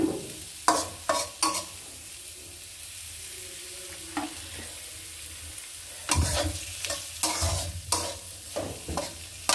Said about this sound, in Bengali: এখন দিয়ে দিব এখানে 1 কাপ পেঁয়াজ। এটা আমি তেলে ভেজে নিই।